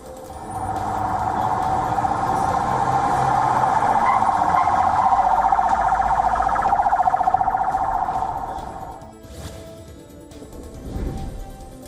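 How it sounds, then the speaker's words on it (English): Ambulance siren wailing steadily as vehicles race out of Nasser Hospital in Khan Yunis, Gaza; loud, sustained tone for about nine seconds, then fading into street rumble and bursts of nearby noise. "Ambulances were seen racing out of Nasser Hospital in Gaza's Khan Yunis."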